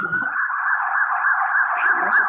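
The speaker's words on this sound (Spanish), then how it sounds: "Oh, el Juan va en ambulancia a París" A wavering, siren-like wail for an ambulance holds a steady, high pitch for about two seconds during a beginner Spanish storytelling class, alone and fairly loud.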